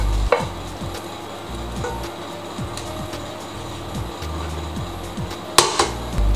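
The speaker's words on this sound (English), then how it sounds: "Stir fry starch coated pork." Starch-coated pork is stir-fried in sesame oil in a pan, with a constant sizzle under repeated scraping strokes of a utensil against the pan at an even rhythm. A couple of sharper clanks stand out.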